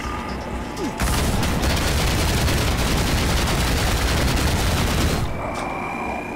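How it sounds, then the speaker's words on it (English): A minigun in the video game Ion Fury roars in one long unbroken burst of rapid fire lasting about four seconds, loud and close, with quieter game ambience before and after. "Where's the fucking minigun again?"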